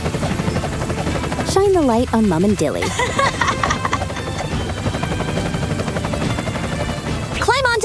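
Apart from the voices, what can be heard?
rescue helicopter flying overhead in a cartoon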